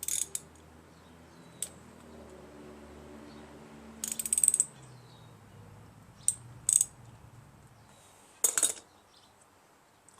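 A socket ratchet loosening the carburetor on a Craftsman 7 HP lawn mower that runs rough: several short, close bursts of quick ratcheting clicks spaced a second or two apart, with quiet pauses between.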